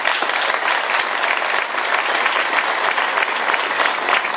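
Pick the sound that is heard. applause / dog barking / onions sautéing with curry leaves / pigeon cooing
applause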